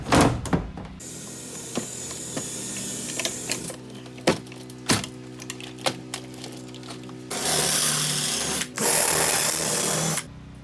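A power tool drills out rivets on a step van being converted into an RV, giving scattered sharp clicks and knocks, then a loud, sustained grinding whir near the end, close and alone.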